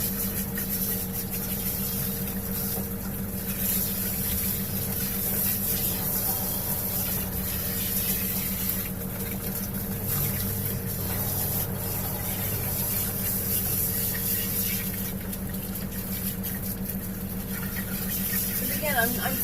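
Water sprayer hissing steadily while rinsing soap off a dog during grooming, a continuous broadband spray with a low hum underneath and a person talking over it.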